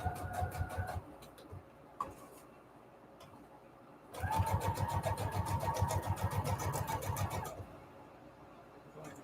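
A sewing machine runs a straight stitch around the edges of paper, sewing a 1/8 inch border, in rapid rhythmic bursts: a short run, a pause with a couple of clicks, then a longer steady stretch up close.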